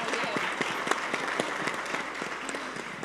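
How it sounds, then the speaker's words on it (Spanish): A crowd applauds with steady clapping throughout, a dense patter of hands with a few sharper individual claps standing out. "aplauso."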